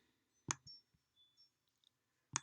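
Two crisp, isolated computer mouse clicks about two seconds apart in a quiet room, with faint small handling noises in between.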